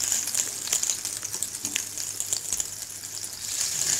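Chocolate deep-frying in hot oil gives a steady, close sizzle of crackling bubbles with a bright hiss, holding even throughout.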